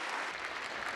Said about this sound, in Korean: 기립박수가 여러 차례 터져나왔지만